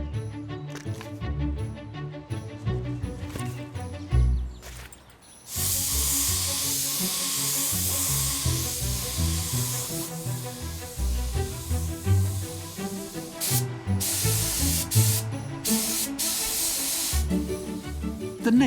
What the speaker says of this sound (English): now it really matters that this final sprayed coat is going to go on really nicely